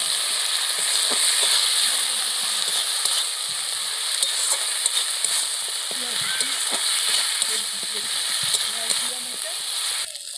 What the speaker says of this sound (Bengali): লঙ্কার গুঁড়ো দিয়ে দিচ্ছি এক চামচ দিয়ে ভালো করে মশলাটা কষিয়ে নেবো